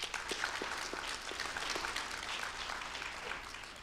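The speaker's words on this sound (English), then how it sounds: "So please give a big applause to Mark as well." Audience applause at a panel discussion on operating in Vietnam and selling globally: a steady wash of many hands clapping, fairly faint and distant, sustained throughout with no talk over it.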